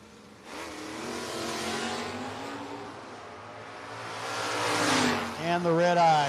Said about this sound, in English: And the red eye for the Camaro, going to give the Comet Wagon the win